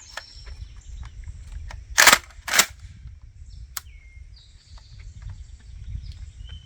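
A Smith & Wesson M&P12 bullpup 12 gauge shotgun fires its first shots outdoors: two loud, sharp blasts about half a second apart, followed by a quieter crack and a low background hum.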